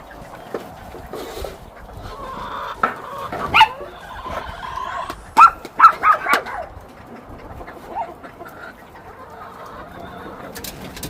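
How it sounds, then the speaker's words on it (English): Several chickens cluck and squawk in short bursts, close by, with outdoor background noise and a louder cluster of calls midway. "my chickens like to act like I never feed them a day in their life"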